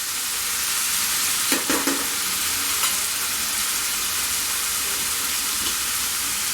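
Ingredients for a Bengali fish head pulao, with tomatoes and salt, gently frying in a pan, giving a steady loud sizzle with a few brief stirring clinks and no talking.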